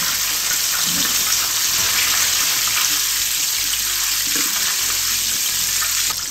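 A large tilapia frying in hot oil until golden brown, giving a steady, dense sizzle and crackle that stays loud and even throughout, with no voices over it.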